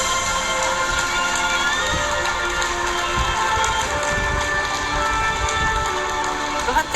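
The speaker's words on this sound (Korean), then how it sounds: "지나갈 때 박수를 보내시고요" A crowd at a women's professional billiards championship applauds and cheers steadily as the champion circles the table with her trophy, a dense, unbroken wash of clapping throughout.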